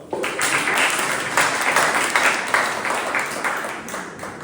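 An audience at a Toastmasters club meeting gives a big round of applause for the incoming Toastmaster, a loud, dense, sustained patter of many hands clapping throughout.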